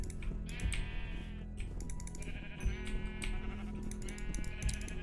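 Repeated sheep bleats in Minecraft sound in quick bursts one after another over steady keyboard clicking and a low hum throughout.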